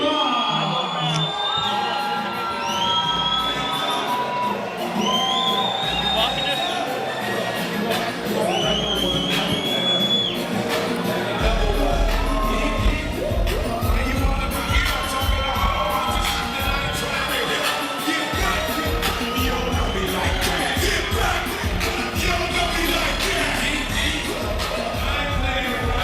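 Boxing crowd at Celebrity Theater in Phoenix cheering and whooping for fighter Joseph Rivas, a loud, sustained roar of shouts and yells filling the hall, with an announcer's voice talking over it.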